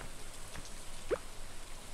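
Soft, steady rainfall in the farming game Stardew Valley, a faint hiss of drops with occasional light drips throughout, no voices.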